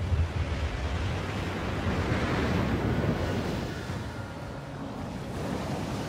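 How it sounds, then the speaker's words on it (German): Giant tsunami waves surging onto a coast, a continuous loud roaring wash of water with a windy rumble that swells and eases slightly, no voices. "Wir reden hier von gigantischen Wellen, die im Minutentakt an die Küste branden und alles und jeden auf ihrem Weg mitreißen."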